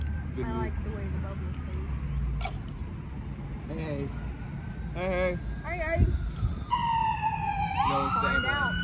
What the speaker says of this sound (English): No, it's ambulance. It's ambulance. Ambulance.